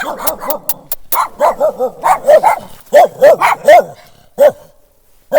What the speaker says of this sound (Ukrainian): Ну, ну такий злосний пес.